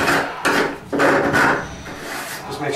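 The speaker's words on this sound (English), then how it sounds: "There's a lot of frayed edges up here, so just scrape them off" Rough rasping strokes scrape frayed edges off a Duraflex washer pan, a few loud uneven passes up close with brief gaps between them, no talking.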